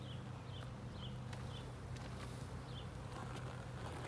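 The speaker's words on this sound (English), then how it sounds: "So there's a few bees left." Honey bees from a backyard beehive hum steadily in a faint, continuous drone, with a low hum and light rustling underneath and no voices.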